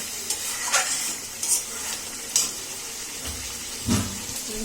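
Mutton for biryani being stir-fried in a pot, a low steady sizzle with intermittent scraping stirs and a few louder clinks of the spoon against the pan, close by and without talk.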